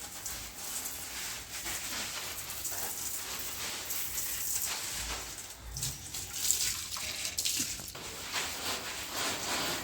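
Rain driven by a strong windstorm makes a fairly quiet, continuous broadband rush that surges and dips unevenly, with scattered faint drips standing out now and then.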